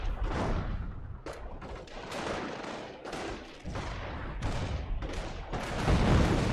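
Howitzer artillery fire in a war video game comes as a rapid series of loud blasts and booms, about a dozen sharp hits in quick succession, with the last impact rumbling on.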